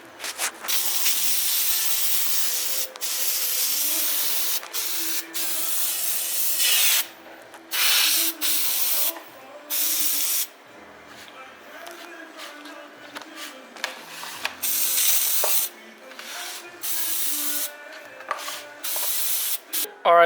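Repeated spray bursts of filter oil hiss close up onto an air filter for a Yamaha Blaster, some long and some short, separated by brief pauses, with no talking.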